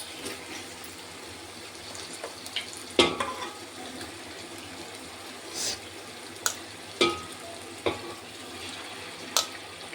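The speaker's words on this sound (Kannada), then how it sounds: "ಇವಾಗ ಒಗ್ಗರಣೆಗೆ ಹಾಕ್ತಾ ಇದ್ದೀವಿ" A constant oily sizzle of chicken in tempering oil for biryani, with occasional sharp clinks and stirring knocks, close by, with no talking.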